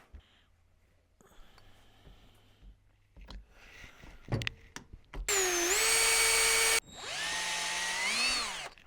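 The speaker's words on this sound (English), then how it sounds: "Gonna be using a 5/32 drill bit." A power drill fitted with a 5/32 drill bit bores into parts on a Miata, starting with faint clicks and handling noise, then two loud, steady whining runs near the microphone.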